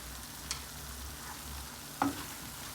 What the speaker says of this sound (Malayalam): ഇട്ടിട്ട് നന്നായിട്ട് വഴറ്റും